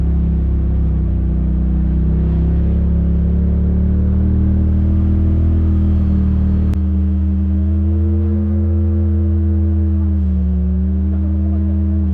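An off-road vehicle climbs a resort drive near the Hatfield McCoy trails with a close, steady engine drone and low rumble that shifts pitch slightly partway through.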